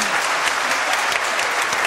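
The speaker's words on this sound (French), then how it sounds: "Applaudissements." Studio audience applause on a French television show, steady dense clapping close by, continuous throughout with no talking.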